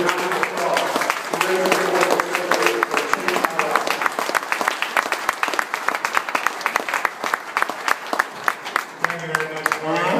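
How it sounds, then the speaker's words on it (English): Applause and clapping from a county fair audience at a champion drive, distinct claps over a murmuring crowd with voices talking throughout. "Let's give that gentleman a round of applause."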